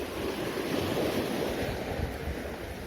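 Rough sea waves break against a rocky shore, a continuous loud wash of surf with wind buffeting the microphone.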